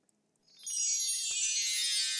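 Water poured into a line of three glasses, a steady bright splashing stream that starts after a brief silence and keeps running without a break.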